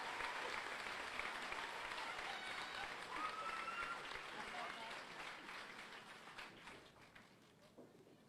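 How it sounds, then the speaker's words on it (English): An outdoor crowd applauds Army retirees and their families at a Fort Jackson basic training graduation, a broad, fairly distant wash of clapping that gradually thins and fades, with faint voices mixed in. "Please join me in a round of applause for our retirees and their families."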